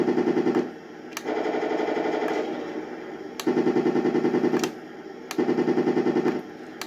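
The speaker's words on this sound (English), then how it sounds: "So you can have two machine gun sound, not at the same time." A Heng Long 1/16 Tiger 1 RC tank plays its electronic machine gun sound effect as repeated looping bursts of steady rattling, separated by short breaks, close and fairly loud.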